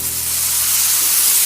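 Soy sauce and vinegar hit a hot pan of chilli paneer, giving a loud, steady, bright sizzle with fine crackling spitting throughout.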